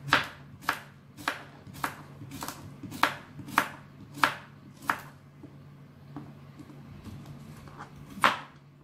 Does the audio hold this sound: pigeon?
no